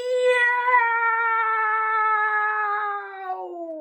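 A storyteller's voice imitates a cat's meow in a read-aloud tale about a giant cat, giving one long, drawn-out, clear meow that slowly falls in pitch and fades at the end.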